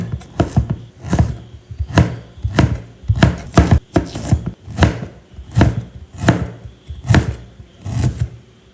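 A knife chops garlic and ginger on a board in a home kitchen. About sixteen sharp, close, loud chops come in quick irregular bursts, with no talking.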